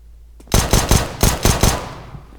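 Six sharp sidearm pistol shots from CS:GO fired in quick, slightly uneven succession, loud and close, each with a brief crack and short decay, no talking over them.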